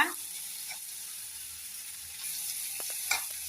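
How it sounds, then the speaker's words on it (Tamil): Curry sautéing in a pan with kuzhambu powder and turmeric makes a soft, steady sizzle and frying hiss, with a few stirring scrapes near the end, close and fairly quiet, with no voices. "அப்புறம் குழம்பு தூள், மஞ்சள் தூள், நல்லா வதங்கட்டப்பா."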